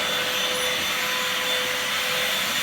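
A Bosch GAS 18V-1 cordless 18-volt handheld vacuum cleaner runs steadily throughout, a loud, even motor whine with airy hiss and no speech.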